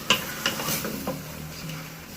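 A spoon scrapes and clinks a few times while chicken pieces are stirred with spices and a spoonful of tomato paste in a pan over low heat. A soft sizzle sits in the background.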